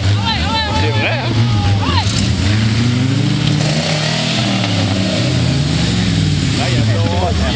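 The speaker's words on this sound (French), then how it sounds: "Un moteur tracker, c'est le moteur tracker." A 4x4 fitted with a 1.6 Tracker engine runs loudly and steadily at close range, its pitch rising and falling as it revs, while people talk over it.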